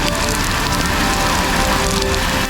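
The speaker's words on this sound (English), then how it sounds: "This has turned into a legitimate rainstorm." Heavy rain pours steadily during a rainstorm on a mountain bike trail ride, a loud, dense, continuous hiss with no break, close around the listener.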